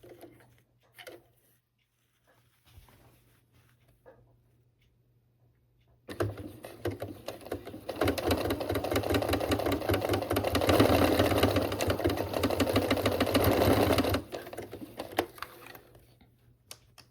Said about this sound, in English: stretch it all the way down to the other end and sew